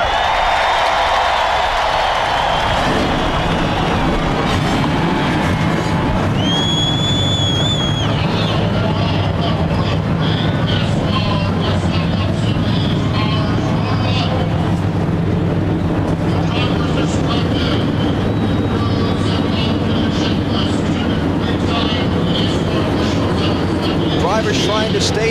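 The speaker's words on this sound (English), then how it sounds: "Gentlemen, start your engines." NASCAR stock car engines firing up at the 2004 Tropicana 400 opening ceremonies, a broad sustained roar of many engines rumbling and revving together, loud and continuous, with crowd and announcer voices mixed in.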